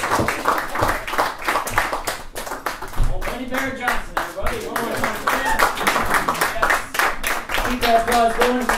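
Audience clapping at a small comedy show in a coffee shop, a run of distinct, close hand claps with some cheering voices mixed in, keeping up an uneven rhythm throughout.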